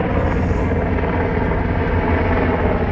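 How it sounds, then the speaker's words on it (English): A steady, loud rumbling roar of two military helicopters passing overhead in a naval city, continuous and heavy throughout with no voices. "There's 2 helicopters coming past"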